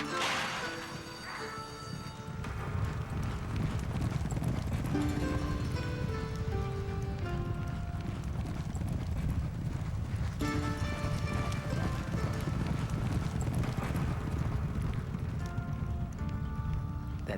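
A pack of racehorses gallops with a dense, continuous drumming of hooves, loud and sustained, mixed with a rushing wash of noise.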